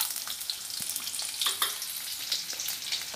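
Garlic, cardamom, ginger and cashews fry in a pan with a soft, steady sizzle and scattered small crackles and pops, quiet and close, with no voices.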